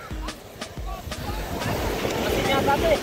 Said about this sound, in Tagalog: Ay, dito na nga tayo sa dagat.